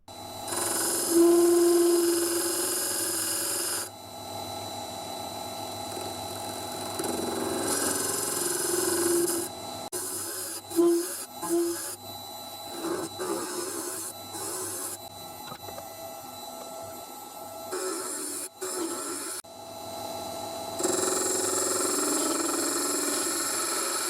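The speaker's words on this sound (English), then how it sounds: "The lathe is running in reverse on this part." A wood lathe runs in reverse while a pipe is turned, giving a steady mechanical hum broken by scraping tool contacts and short knocks, with the level dipping and returning through the middle.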